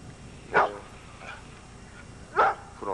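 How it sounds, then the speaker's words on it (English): Dog barking on a Sunday afternoon in Limestone, Maine, two or three short barks at moderate distance over a quiet background. "Here's the doggy."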